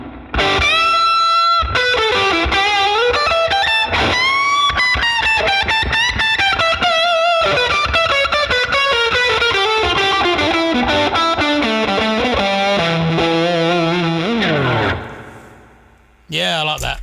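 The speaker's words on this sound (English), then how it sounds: "Bit of spring reverb." An electric guitar plays through a modelled 1953 Fender 5C3 Tweed Fullerton amp with a boost pedal and spring reverb, loud and continuous for about sixteen seconds before dropping away briefly and returning.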